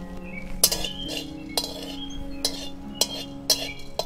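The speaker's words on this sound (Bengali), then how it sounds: "এবার আমি এলাচ, লবঙ্গ আর কিছু গোলমরিচ দিয়ে শুকনো করে ভেজে নেব" Cardamom, cloves and black pepper dry roasting in a hot wok give sharp metallic clinks and scrapes as a utensil stirs, repeating roughly every half second over a low background hum.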